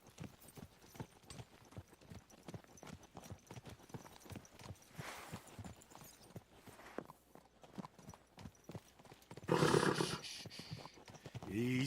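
Horse hooves clip-clopping in a video game, a steady rapid trot of close hoofbeats throughout, followed near the end by a louder burst of snorting or blowing from the horse.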